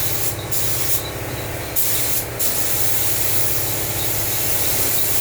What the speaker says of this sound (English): And all of this without a spray booth.